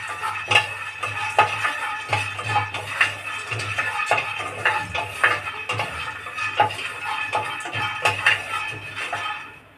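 Peanuts fried in a hot kadai pan, with a steady stream of scraping and stirring clatter from a utensil against the metal, busy and close throughout with no talk.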